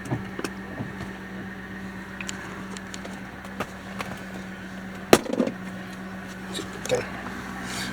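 A car engine idles steadily as a low, even hum with a few scattered clicks and knocks over it.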